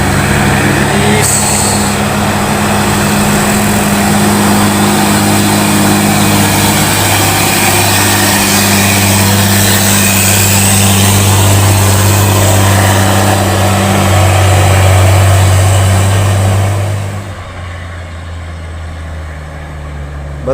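A Hino 500 truck engine runs loud and close with a steady deep rumble, then drops off sharply to a quieter idle near the end.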